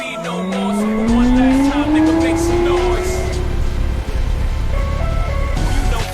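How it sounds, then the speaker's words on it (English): A Ferrari 308 sports car driving hard with tires squealing: a loud, close, sustained screech that rises steadily in pitch over a rough engine roar. "we're going to test this 308 Ferrari."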